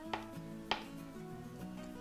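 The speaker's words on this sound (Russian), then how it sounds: "Яйца нарезаю мелким кубиком." A knife dicing boiled eggs into small cubes on a cutting board for a Soviet-style salad, giving two sharp chopping strikes close by with faint board clatter between, no talking.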